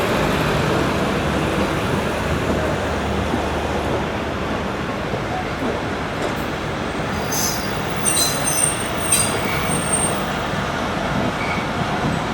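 A passenger train pulls into Jung Shahi station and slows to a stop, its steady rumble of rolling wheels and railcars filling the scene, with brief high wheel squeals near the end.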